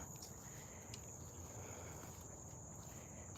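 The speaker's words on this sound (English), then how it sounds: "It's just the crickets and the cicadas." Crickets and cicadas chirp in a steady, faint high-pitched drone with a few soft ticks, quiet and continuous throughout.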